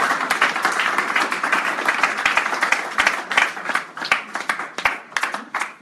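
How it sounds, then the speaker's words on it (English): Audience at a church sermon applauding, a dense burst of many hands clapping that starts full and thins into scattered, uneven claps toward the end, with no talk over it. "give the Lord a round of applause."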